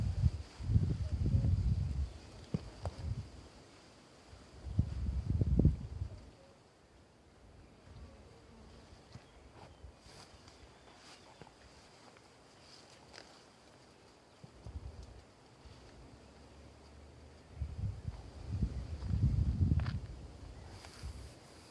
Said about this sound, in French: si vous m'entendez, il y a du vent.